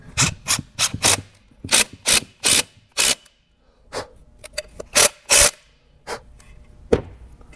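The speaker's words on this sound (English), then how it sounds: "And then run our screw in." Screw being driven with a drill to join two pieces of wooden rail through a 3/16 pilot hole, heard as a series of short, loud bursts of whirring and grinding separated by pauses, close by and with no talk.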